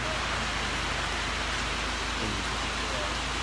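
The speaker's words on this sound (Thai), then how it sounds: "ฝนตก อยุกาสีฝนตก" Steady rain falls without a break, a dense hiss of drops hitting surfaces close by, with no voices.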